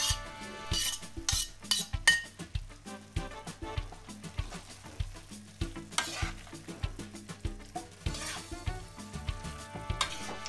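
Swordfish pieces being gently stirred into pasta with breadcrumbs in a pan, a steady run of soft scraping and clinking utensil strokes over a light sizzle, close and fairly quiet with no talking.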